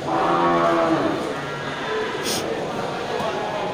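Aceh cattle, breeding cows kept with their calves, give a low, drawn-out moo that fills the start and fades into a steady murmur of background noise.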